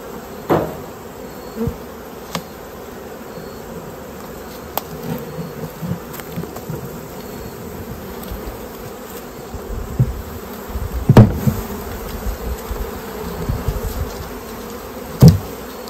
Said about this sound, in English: Let's see if I can dump the rest of these bees in here.